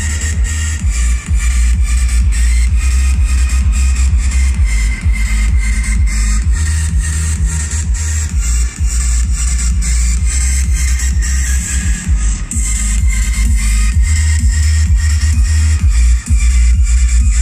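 Music playing through a Polytron PMA 9526 active speaker, with a heavy, booming bass beat under a dense, full mix, loud and steady throughout, with no talk.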